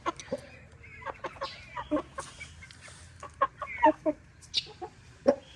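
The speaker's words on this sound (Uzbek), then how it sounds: "Yaxshi xo'rozlar o'rtoqlar." Roosters give short clucks and calls in scattered, irregular bursts, fairly close against a quiet background, with no long full crow standing out.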